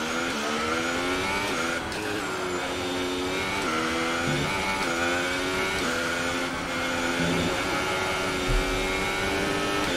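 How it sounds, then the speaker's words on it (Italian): Simulated Alfa Romeo Sauber Formula 1 car engine in the F1 2018 video game, a steady high-pitched whine that holds loud and continuous with small pitch shifts through the gear changes, with no talk over it. "un bug sonoro abbia leggermente cambiato il sound della macchina."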